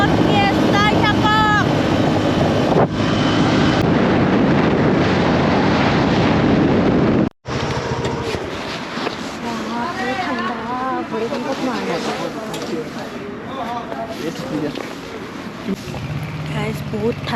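Strong wind buffets a bareheaded motorcycle rider, a steady loud roar of rushing air across the microphone with engine drone underneath, briefly cutting out midway before resuming.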